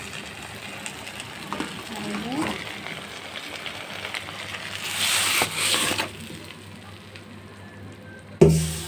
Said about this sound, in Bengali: হয়ে গেল কলা পাতার মাছ ভাজি